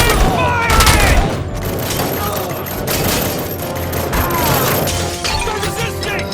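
Heavy gunfire from the Robocop Rogue City game, sustained bursts of shots with crashes and impacts, loudest in the opening second, then steady rattling fire under shouted voices.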